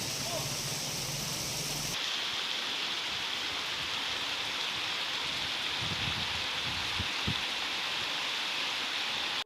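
A heavy monsoon downpour in Kawant, Chhota Udepur, Gujarat, makes a dense, unbroken roar that fills the whole stretch, growing sharper after a short opening segment, with a few duller thuds near the end.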